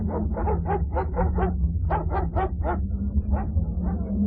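A dog barks repeatedly in quick, close bursts over a steady low hum from deep underground, with a short pause between volleys, moments before a magnitude 7.4 earthquake.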